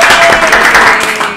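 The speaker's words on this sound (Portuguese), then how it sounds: "hoje a gente tem plateia e eles não deram aplauso" A podcast studio audience claps loudly and close up in a short, dense burst of applause that carries on without a break before tapering slightly.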